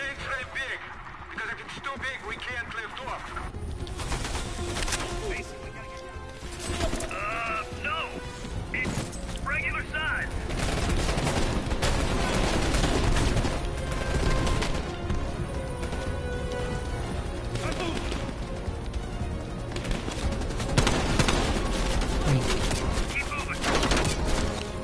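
Dense Call of Duty Cold War gunfire crackles almost nonstop through a chaotic firefight, with bursts and crashes layered over loud, overlapping voices of players talking.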